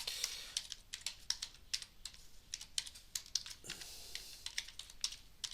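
Keys clack on a computer keyboard as a password is typed in, a quick irregular run of close, crisp taps with a brief pause midway.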